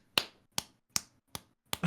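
Five sharp hand claps ring out at a steady, even pace, each one crisp and close with a quick decay, over near silence.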